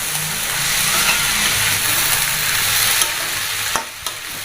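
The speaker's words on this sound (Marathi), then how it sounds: "मी हे तांदूळ छान परतून घेणार आहे" Soaked rice stir-fried in masala in a pan for masoor pulao, a loud continuous sizzle and frying hiss with scraping strokes of a spatula, ending in a couple of sharp knocks against the pan.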